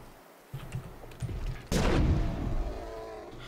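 A bomb explodes in the horror video game Betrayer, a sudden broad blast that rises out of rumbling game ambience and leaves a dense, decaying roar over the final seconds.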